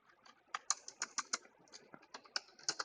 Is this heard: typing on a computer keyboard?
yes